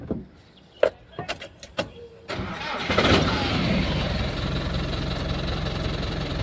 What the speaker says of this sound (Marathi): आता गाडी स्टार्ट करून घेऊ